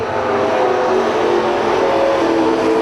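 Race cars in a heat race roar by on the track at full throttle, a loud continuous engine drone with shifting pitch as they power down the back straight.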